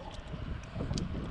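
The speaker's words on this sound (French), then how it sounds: "j'espère que tu vas m'entendre avec ce vent" Gusting wind buffets the microphone of a rider on a brakeless fixie near St Raphaël, making a low, rumbling, uneven roar with no speech.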